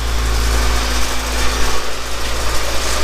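A stripped Honda Civic EG idles close by with a steady, loud, rumbling low drone and slight irregular pulsing, and no voices over it.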